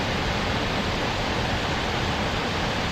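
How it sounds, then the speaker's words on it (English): Dense, unbroken roar of a waterfall close by at Savage Gulf State Park, Tennessee, loud and steady with no talking. "Once I get near the waterfall, I'm not even going to try to talk"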